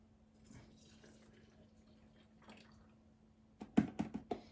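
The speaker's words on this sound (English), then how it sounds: "be careful when using the hot water to rinse the honey out" Hot water runs and splashes while rinsing honey out of a container during Vimto mead brewing, faint trickling at first, then a few louder sloshing bursts near the end.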